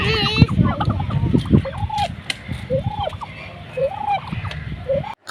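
Fowl at the Ajman pygmy zoo give a series of rising gobble-like calls, three or four in succession at moderate distance, over a busy background of people talking and zoo ambience.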